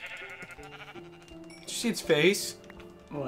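A Minecraft sheep gives a couple of shaky, nasal bleats in the middle of the clip, heard under and between casual talk from two players over quiet background music.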